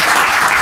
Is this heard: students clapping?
yes